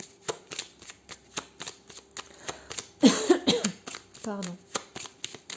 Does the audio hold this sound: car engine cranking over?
no